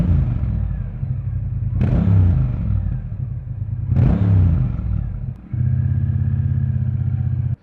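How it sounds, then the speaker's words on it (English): A Triumph Bonneville T120 motorcycle engine runs loud and close with a deep, rumbling idle, gives two sharp revs that rise and fall, then settles into a steady, throbbing tick-over. "start the bike up, and let you hear that raw sound"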